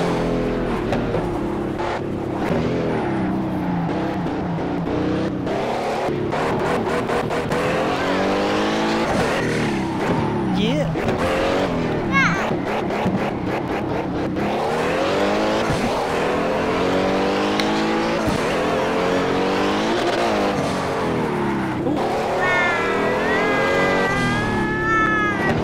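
A 19-month-old toddler mimics a car engine with rising, wavering vocal hums over a continuous racing-game soundtrack of revving engines and squealing tires, steady and loud throughout.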